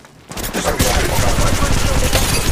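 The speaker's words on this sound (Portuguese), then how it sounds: "Eu tô levando tiro." Rapid automatic gunfire in the mobile battle royale game Apex Legends Mobile, a dense, loud sustained burst of shots that starts abruptly and continues to the end.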